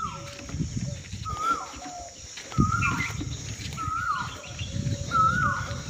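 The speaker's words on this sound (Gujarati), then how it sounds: "કેવો સરસ મજાના પક્ષી કલરવ." Birds near a village temple in Khoraj repeat clear whistled calls every second or so, rising and sliding, over a soft low rumble of the surroundings.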